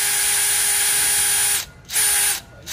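DeWalt DCD791 cordless brushless 20V drill spinning at its first speed setting, a steady electric whine that runs alone, cuts off briefly, restarts, then stops again.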